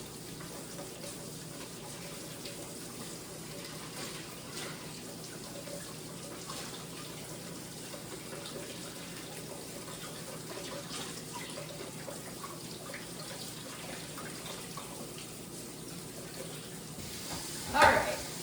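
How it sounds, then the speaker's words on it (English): Canned chickpeas being rinsed under running kitchen tap water in a sink, a steady continuous stream lasting throughout with a brief louder splash near the end. "I'm going to then rinse off these beans, okay? Just using the water."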